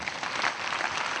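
A crowd at a New Year's Eve (Saint Sylvestre) reception applauding, a dense, steady wash of clapping heard up close without pause through the short stretch, with no speech over it.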